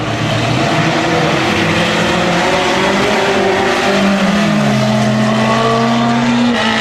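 Race car at full throttle on a 250 speedway oval, a loud continuous engine drone whose pitch slides down and then climbs again as it powers into the turn, close and unbroken.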